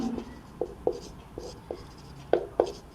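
Pen strokes on paper while working a Class 12 maths differentiation problem, a series of short scratchy marks in irregular bursts, close and fairly quiet with no voice over them.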